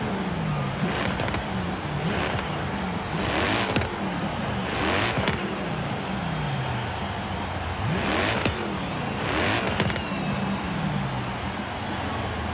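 A turbocharged car in Forza Horizon 3 revs over and over, with repeated rising engine sweeps and sharp bursts at steady intervals, loud and continuous under faint background.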